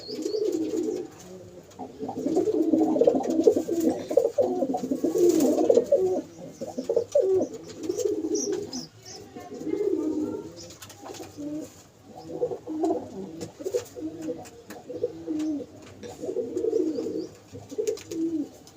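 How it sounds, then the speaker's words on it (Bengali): A female pigeon coos in low, throaty bursts that repeat steadily through the whole stretch. The calls are close and fairly loud, with short pauses between phrases and no talking. "এটা মাদি পায়রা"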